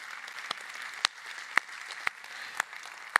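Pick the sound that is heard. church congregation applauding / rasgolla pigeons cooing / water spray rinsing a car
church congregation applauding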